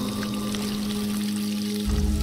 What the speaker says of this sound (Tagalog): Dinampot ang gomang hose na ang tubig ay patuloy na umaagos.